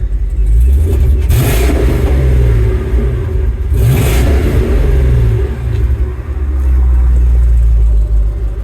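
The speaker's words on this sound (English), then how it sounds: "Rev it up a few times." A Chevrolet C10 pickup truck with a stock Gen V engine swap roars loudly up close, revving hard twice with surging rises, then settling into a heavy rumbling idle.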